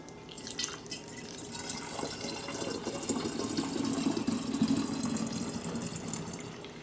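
Melted homemade butter poured from one vessel into a container, giving a steady close trickle and drip of liquid that builds slightly midway, with no talking.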